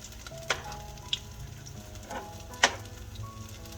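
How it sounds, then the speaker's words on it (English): Tater biscuits sizzling and crackling in a hot frying pan, with a few sharp pops and spatters over a steady frying hiss. "I'm going to let them sit there and sizzle a while before I turn them."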